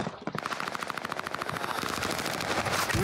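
Rapid automatic gunfire in Fortnite, a loud, close, continuous stream of evenly spaced shots lasting about three seconds.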